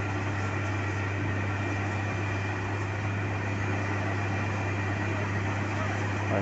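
During the BR-135 duplication works in Curvelo, a road saw cuts the asphalt to separate the lanes, producing a continuous, even engine roar with a strong low hum and broad grinding hiss, unbroken throughout.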